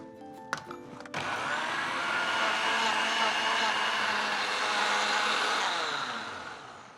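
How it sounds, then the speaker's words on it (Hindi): Countertop blender whirring through roughly chopped pineapple and apples, a few clinks as it starts, then a steady loud motor roar for several seconds that tapers slightly at the end. "Now let's blend this."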